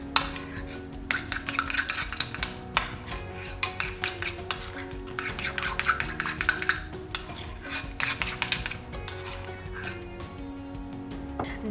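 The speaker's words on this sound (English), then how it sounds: "we'll start off by putting the cream / soft cheese into the bowl and just giving it a good stir to soften it up" A spoon stirs soft cream cheese in a bowl to loosen it, making repeated scraping and clinking sounds with sharp taps against the bowl at an uneven pace, close and moderately loud.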